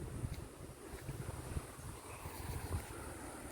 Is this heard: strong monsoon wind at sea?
yes